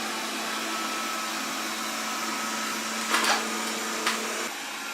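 A Proscenic 820S robot vacuum cleaner runs with a steady whirring hum while picking up crumbs of crackers and raisins, with a couple of brief rattling bursts as debris is sucked in.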